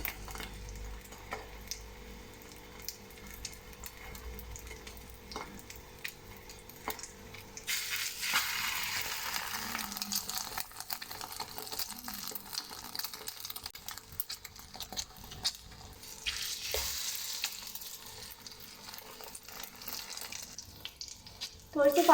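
Chicken keema shami kebabs fry in a pan over medium-low heat, a steady soft sizzle that swells louder as pieces are added, with occasional clinks and handling noises.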